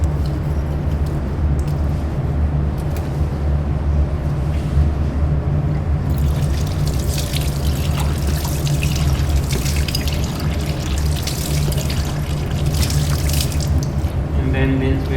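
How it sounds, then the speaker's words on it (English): Laboratory glassware being washed with soapy water: continuous splashing and sloshing of water alongside a steady low hum, with brighter splashes in the second half. "Let's clean these glasswares with soap water."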